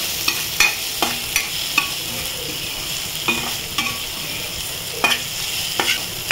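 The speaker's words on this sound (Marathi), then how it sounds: "याच्यामध्ये 1 मीडियम साईजचा कांदा कापून घेतलेला आहे, तो आपण घालून घेऊ" A medium sliced onion sautés in oil while a utensil stirs it, a steady low sizzle with sharp periodic scraping clacks against the pan at irregular intervals, close and fairly loud, no voices.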